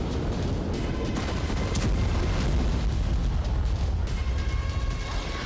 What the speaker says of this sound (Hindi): चार अगस्त की दोपहर बैरूत पोर्ट पर धुएं का एक ऊंचा गुबार उठ रहा था और अचानक एक जोरदार विस्फोट हुआ।